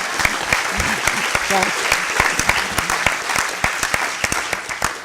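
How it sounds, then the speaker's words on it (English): Audience applause in a law school hall at a new-student convocation, sharp individual claps ringing out fairly close and loud, with a voice briefly speaking over them. "That's only applause for survival"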